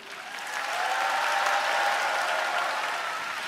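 Steady applause from an audience at a church Bible recitation contest, greeting a judge being introduced; a sustained burst that swells and holds without talk.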